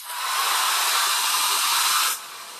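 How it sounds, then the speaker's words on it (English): A blow dryer running on its cool setting, used to dry chalk paste on a craft piece of ice skates, gives a steady close airy whoosh for about two seconds before switching off, leaving a faint hiss. "I'm going to use the cool setting on my blow dryer."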